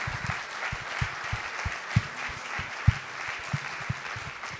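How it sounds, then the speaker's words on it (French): An audience at a professional trade show round table claps for the event organizers, sustained applause with scattered louder individual claps standing out against the crowd, fairly close and continuous. "je veux que vous vous joigniez à moi pour applaudir bien fort tous les organisateurs"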